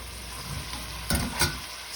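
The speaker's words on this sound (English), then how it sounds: "Now I'm gonna put my onions, my red pepper," Onions and red pepper sizzle and fry in vegetable oil, a steady close hiss with a couple of louder bursts of crackle partway through, no talking.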